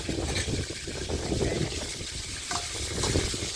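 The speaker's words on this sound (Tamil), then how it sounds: "மாங்காய் நல்லா எண்ணெயில் திருப்பி விட்டுக்கலாம்" Raw mango is stirred in hot oil on a village stove, giving a steady, close scraping and bubbling frying noise that runs continuously without pause.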